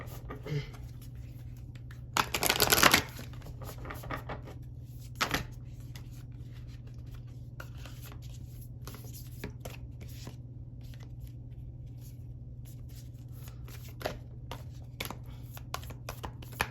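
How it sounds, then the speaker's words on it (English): Tarot cards being shuffled and pulled at close range, with a burst of riffling followed by scattered light card snaps and taps over a steady low hum. "Okay, I'm not gonna pull too many cards."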